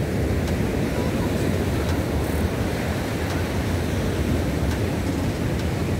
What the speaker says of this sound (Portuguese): E as águas estão assim, ó. Com ondas fortes.